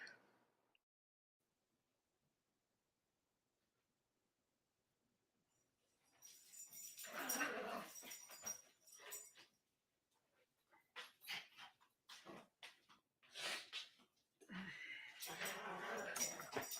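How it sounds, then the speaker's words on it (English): Several dogs barking at home, bursts of loud close barking and yips starting after a long quiet stretch, coming in repeated clusters with short pauses between them. "you hear my dogs barking"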